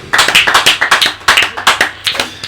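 A small group of hands clapping unevenly for about two and a half seconds, a close, loose scatter of claps rather than full applause, in a Hindi-language gathering about God.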